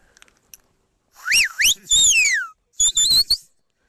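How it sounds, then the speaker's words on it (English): A shepherd's whistle blown to steer a retriever dog named Gypsy during training, a few loud sharp notes of rising and falling pitch, close by and heard alone after a short quiet start. "We're going to use a shepherd's whistle"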